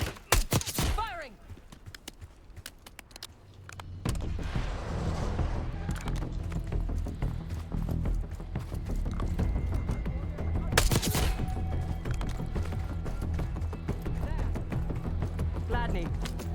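Rapid bursts of automatic gunfire in the Call of Duty Black Ops 6 campaign, dense crackling volleys running almost continuously after a quieter opening, with a sharp loud burst near the end and game voices heard at the start.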